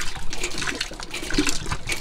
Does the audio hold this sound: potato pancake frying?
no